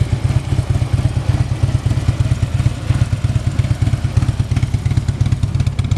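A 2015 Harley-Davidson Road Glide touring motorcycle idles steadily with a deep, loping V-twin throb, close and loud, the rumble holding an even pulsing rhythm throughout.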